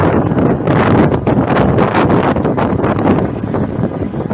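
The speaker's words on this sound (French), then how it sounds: "Là, il y a du vent de plus en plus" Strong wind blows outdoors in Marseille, buffeting the microphone with a loud, steady rushing roar that lasts throughout, with no voices.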